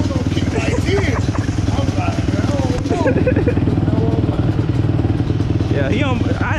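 A 2003 Yamaha Banshee two-stroke quad runs loud and close with a steady rapid engine chatter throughout, while people talk over it.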